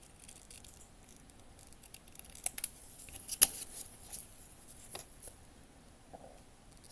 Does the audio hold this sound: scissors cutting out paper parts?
yes